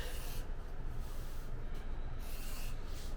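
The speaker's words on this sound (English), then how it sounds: "So I'm going to take a Very Keen grooved edger number 1 and just run it right down the edge" A leather edge being grooved with a Very Keen No. 1 grooved edger, a steady soft scraping rub running continuously along the edge at close range, with no voices.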